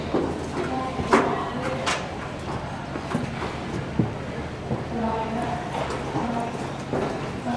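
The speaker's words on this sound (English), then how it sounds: "riding Kathy Johnson's chestnut mare Salsa to demonstrate the gaits of the Peruvian horse to you." Rhythmic hoofbeats of a Peruvian Paso mare moving at a steady gait, clopping on hard ground with some background noise and faint voices.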